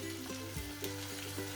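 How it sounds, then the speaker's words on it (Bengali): Ginger, garlic, turmeric and chili powder fry in oil in a pan for a Bengali baim fish curry, giving a steady, soft sizzle with small crackles throughout and no talking. "আদা রসুনটা মেল্ট হয়ে আসছে, এবার সাথে দিয়ে দিব হলুদের গুঁড়া 2 চা চামচ, মরিচ আধা চা চামচ,"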